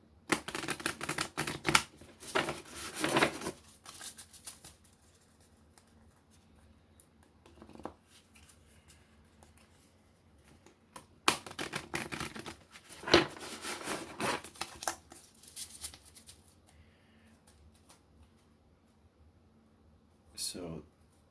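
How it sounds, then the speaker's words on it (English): A deck of tarot cards is shuffled in several quick riffling bursts separated by quiet pauses, close and crisp, with a few soft handling sounds between them. "So I'm going to try to do 3 shuffles."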